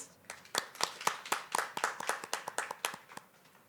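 Scattered applause for graduates at a 2020 graduation ceremony: a handful of distinct, fairly quiet hand claps in an uneven rhythm, with no crowd roar behind them.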